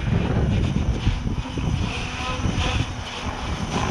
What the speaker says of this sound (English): This way you guys can at least see the helicopter.